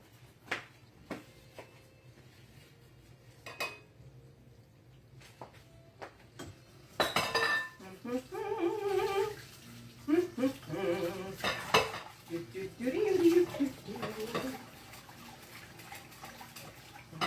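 Food scraped and spooned from a pan into a bowl while making Southern potato salad with breaded chicken cutlets, with sharp clinks of utensil on dishware, scattered knocks and a stretch of busy clatter near the close.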